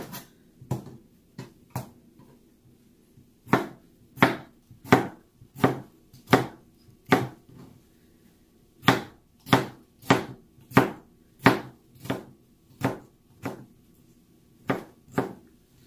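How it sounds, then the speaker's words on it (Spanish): A knife chops tomatoes on a cutting board for shrimp ceviche, making crisp, distinct taps in uneven clusters with short pauses between runs, close and clear with no talking. "Entonces vamos a empezar a cortar los tomates."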